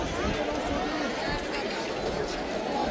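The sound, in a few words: crowd bustling in the markets of Haridwar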